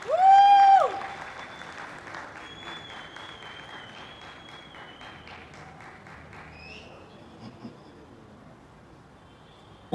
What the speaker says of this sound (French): Applaudissez pour nous-mêmes